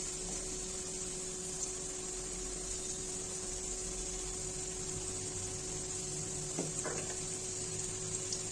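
Cut potatoes fry in hot mustard oil, a steady soft sizzle with a constant hiss running throughout, close by, plus a brief clatter near the end; no one talks.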